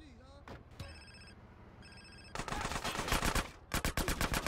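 Gunfire in GTA San Andreas Remastered: after quiet game tones and a ringing electronic chime, loud bursts of rapid shots break out in two volleys, close and sharp.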